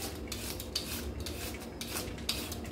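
Cabbage being grated with a potato peeler in a home kitchen, giving a steady rasping scrape with repeated short strokes, close and fairly quiet, with no talking.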